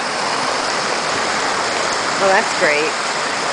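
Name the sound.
rainwater rushing down an eroded driveway like a stream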